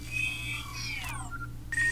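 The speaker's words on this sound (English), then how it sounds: "It activates by poking out like an accessory on R2-D2 each time I turn on the front-facing camera" Added sound effect for the Vivo NEX pop-up front camera rising, a short run of bright electronic chirps and sweeping tones over a steady low hum, ending in a sharper final chime.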